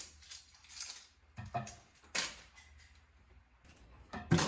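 A knife slices an onion into julienne strips on a cutting board, giving a few sharp, irregularly spaced chops with quiet gaps between them, close and crisp.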